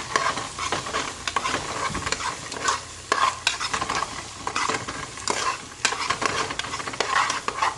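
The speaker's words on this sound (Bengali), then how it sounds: "এখন একটু নাড়ি" Chickpea and soybean curry frying in a pan is stirred continuously, loud scraping and spoon clatter over a dense, crackling sizzle that surges and settles in uneven strokes throughout.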